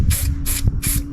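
An aerosol spray can hisses in a car engine bay in three loud bursts, each about a quarter second long, with a short sharp knock between them.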